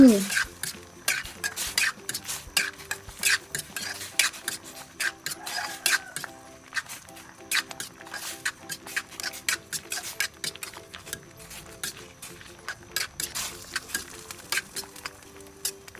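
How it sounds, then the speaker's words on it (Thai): Close, steady stirring of a pot of herbal beef soup seasoned with salt, sugar, MSG and garcinia, repeated light ladle clinks and taps against the pot in an irregular rhythm, without speech. "คนส่วนผสมทุกอย่างให้เข้ากัน"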